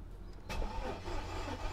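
A Mercedes S55 with a suspected weak battery cranks suddenly and struggles to start, a loud, close, laboring whir that keeps grinding without catching.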